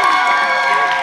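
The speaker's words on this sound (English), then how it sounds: "Can I get a cheer, guys?" A crowd at a college Legally Blonde musical premiere cheers loudly and continuously in a dense, bright burst of shouting, heard up close with no break.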